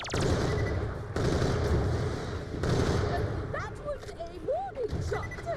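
Rapid bursts of gunfire from a weapon in the video game Borderlands: The Pre-Sequel, dense crackling shots in close succession with brief gaps, while someone talks over the action.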